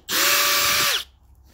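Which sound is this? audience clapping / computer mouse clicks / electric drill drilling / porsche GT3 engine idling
electric drill drilling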